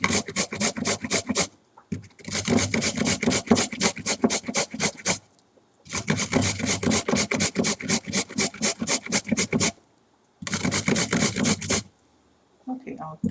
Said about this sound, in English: I have my little mini grater here that I use.